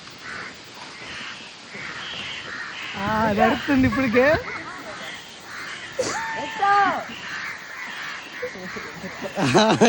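Village crows gather after a coconut is broken, giving several loud, hoarse caws in bursts, mixed with people talking nearby.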